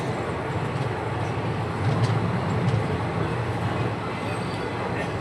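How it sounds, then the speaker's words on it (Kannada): The Nagercoil to Coimbatore Superfast Express, hauled by an Erode shed locomotive, rolls past as a moderately loud, continuous low rumble with faint wheel clatter. "Nagercoil to Coimbatore super fast express"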